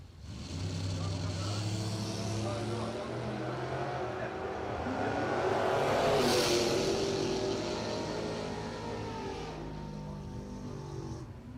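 Red Dodge Dart Swinger drag racing a hatchback down a strip, engines roaring steadily and building to a loud peak mid-run before fading, with an announcer talking throughout.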